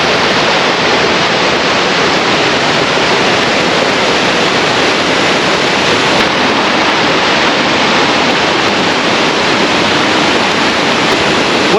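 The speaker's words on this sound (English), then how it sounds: "It looks like another waterfall's over there in the distance." Tumalo Falls near Bend, Oregon roars as a loud, constant wall of rushing water, heard up close with no pauses or voices.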